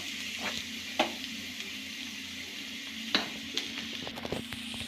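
Crumbled cooked rice goes into a hot pan with green chillies for chicken fried rice, giving a steady close sizzle broken by a few sharp clinks and scrapes of stirring, with no talk.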